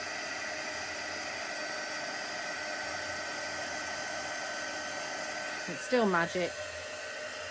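A heat embossing tool blows a steady, loud, hissing rush of hot air over a stamped card throughout, with a brief voice speaking near the end.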